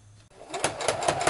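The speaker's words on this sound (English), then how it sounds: "we just sew right along this cording here" Sewing machine running along cording, a short close burst of rapid stitching that starts faintly and builds to a steady whirring chatter.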